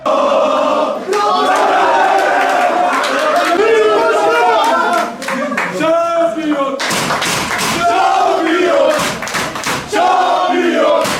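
Tekirdağspor footballers chant and cheer loudly together in the locker room after a win, raising their club president onto their shoulders. The rowdy shouts are packed close and joined by rhythmic claps and thumps in a continuous celebratory din.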